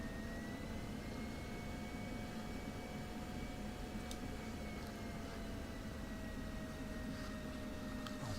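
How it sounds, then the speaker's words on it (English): An F/A-18 jet engine roars steadily during a rolling takeoff down a runway in DCS, a constant broad rumble with a faint whining tone drifting slowly across the whole stretch and no talk over it. "I think I'll cut my taxiing short and go straight in on the runway here. We'll do like a rolling takeoff."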